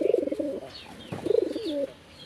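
A pair of native Bangladeshi desi pigeons coo close by in two soft, throaty, rolling phrases separated by a short pause, with no talking.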